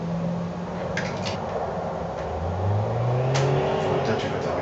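Driving simulator playing a car engine sound while driving to the start line, a steady engine hum with a tone that rises in pitch as the car pulls forward, close and moderately loud.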